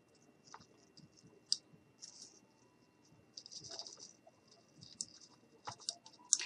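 Cut pipe cleaner pieces dropped into a plastic ornament, giving faint, scattered light clicks and small rattling taps in a quiet room.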